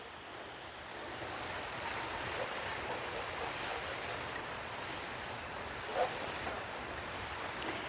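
A Hoselink retractable garden hose nozzle on its shower setting sprays water in a steady, soft hissing rush outdoors, continuous and moderately close with no talking.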